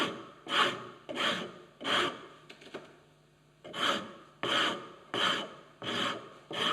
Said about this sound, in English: This is a cabinet maker's rasp.